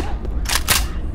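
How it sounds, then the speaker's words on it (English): Weapon reload in the zombie shooter game Left 4 Dead 2: a quick pair of bright mechanical clacks, like a magazine seating and action racking, close and loud over steady game noise. "Reloading."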